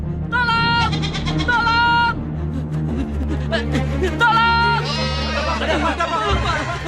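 A goat bleats in repeated wavering cries, loud and close, over a dramatic music score with shouting voices.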